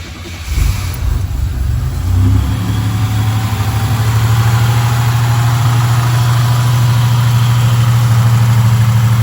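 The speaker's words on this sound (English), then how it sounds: "A lot of money spent in this motor. Larger turbo. As you can hear, she just idled down." A 1987 Buick Regal Turbo T with a larger turbo idles down after a brief rev, its engine settling into a steady, close, loud low rumble that continues without talk.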